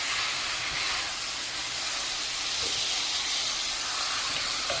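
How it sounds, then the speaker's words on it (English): Cherry tomato sauce simmering in a pan, a loud, even, broadband hiss and bubbling that holds steady throughout, close up with no voices. "we're going to stir all this up, turn it down to low, and let it simmer for just a little bit"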